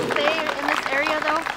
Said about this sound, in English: Another round of applause for our walkers!